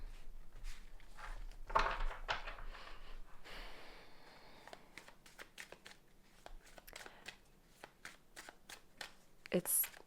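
Tarot cards shuffled and handled during a card reading make soft riffling and shuffling bursts with light taps and breaths, faint and close, in a quiet room.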